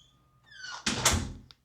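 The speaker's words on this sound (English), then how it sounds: "Opening up the front door." A front door of an MI Homes SeaFlower model villa in Bradenton, Florida, is unlatched with a faint click, then swings open with a loud rushing whoosh and a soft thunk, with no one talking.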